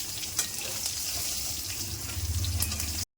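Katla fish frying lightly in oil make a dense, close crackling sizzle that runs steadily, with a few sharper pops, then cuts off abruptly.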